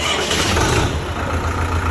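A Kartar 66 tractor engine runs close by in a Punjabi village, a dense, steady rumbling drone that stays loud throughout without pause.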